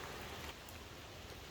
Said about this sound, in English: and it is raining. Just a little bit.